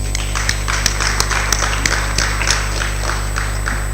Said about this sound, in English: Another round of applause, colleagues.